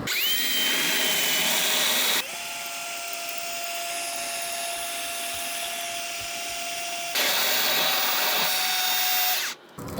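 A power drill runs continuously while boring through material, its pitch dropping under load in the middle and rising again, then cutting off near the end.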